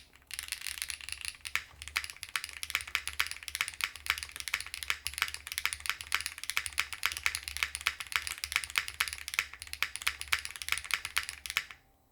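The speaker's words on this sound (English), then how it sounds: "And look how soft this thing is to type on with no foam." Steady, brisk typing on an EVO80 mechanical keyboard with a flex-cut PCB and no foam, a dense run of soft, even keystrokes close up that continues for about twelve seconds before stopping abruptly.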